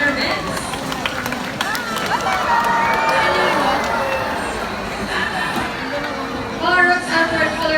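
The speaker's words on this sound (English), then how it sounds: "A round of applause for Sassy and Rocky, Trainer Michelle, and Trainer Vince." Crowd at a parrot show at Manila Ocean Park cheering and clapping for the birds and their trainers, a busy mix of applause, voices and bird chatter with some talk underneath and a louder swell near the end.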